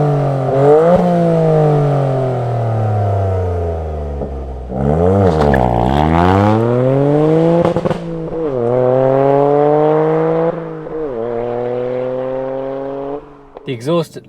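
A Toyota GR Yaris fitted with an Akrapovič titanium race exhaust, loud and close as the engine revs up and down through several gear changes, rising and falling tones with crisp shift breaks, speech faintly present.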